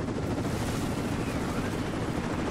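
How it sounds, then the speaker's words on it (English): A helicopter in the video game Rise of the Tomb Raider produces a dense, steady roar, with gunfire-like crackle mixed into the continuous noise. "A helicopter."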